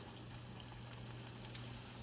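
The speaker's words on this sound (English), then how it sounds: "we're just going to start frying it" Steady, dense sizzling of country fried steak frying in hot grease, a constant crackling hiss with no pauses and no voices.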